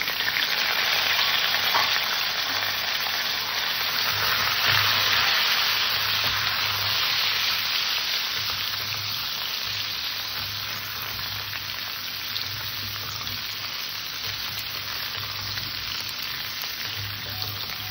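Pieces of bottle gourd fry in hot oil in a home kitchen, making a continuous, even hiss and crackle that holds steady for the whole stretch with a faint low hum underneath.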